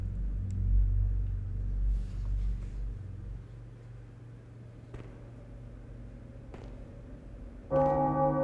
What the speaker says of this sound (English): I love the sound of that bell.